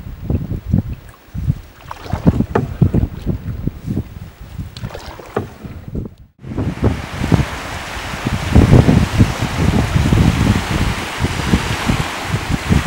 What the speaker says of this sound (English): the wind came up